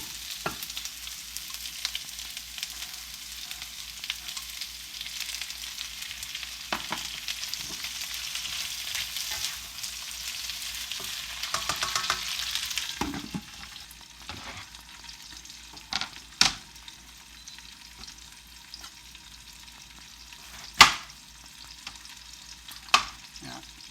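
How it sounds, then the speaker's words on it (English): Vegetables sauté in oil in a pan, a loud, dense sizzle with stirring for about thirteen seconds that then drops to a quieter fry broken by a few sharp clinks. "It's starting to get nice golden color there, lightly fried."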